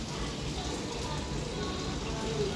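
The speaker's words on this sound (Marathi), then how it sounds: "तुम्हाला दाखवते पाऊस." Light rain falls during a wet monsoon day at home, a soft, even hiss held steady and fairly quiet throughout.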